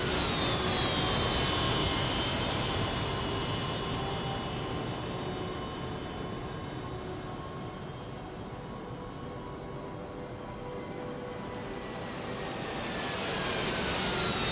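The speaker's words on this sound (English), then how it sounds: "these Harriers are recovering on the deck of HMS Illustrious" Harrier jump jets in a carrier landing pattern recover onto the deck of HMS Illustrious in a simulated display. A loud, whining jet roar sweeps past and fades, then builds again as another aircraft approaches.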